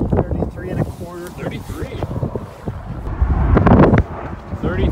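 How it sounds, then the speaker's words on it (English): Strong wind buffeting the microphone on a lake during winter lake trout fishing, a steady rough rumble with gusts swelling louder toward the end, with voices faintly mixed in. "Probably really windy"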